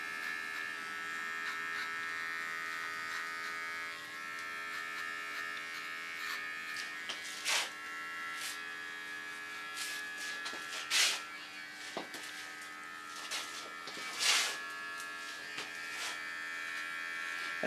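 A small electric hair clipper trims the contour of an ultra-short platinum haircut, giving a steady close buzz with occasional sharper crackles as it passes through the hair.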